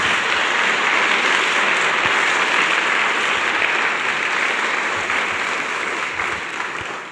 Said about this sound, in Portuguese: Aplauda ela, aplauda ela.